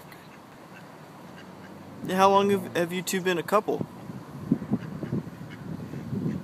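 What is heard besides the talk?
ducks quacking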